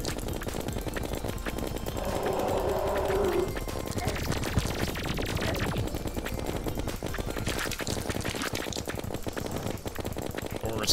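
Rapid weapon fire in the Terraria Wall of Flesh boss fight, a dense continuous stream of clicky shots running throughout, layered with game music and effects, with a person talking over it.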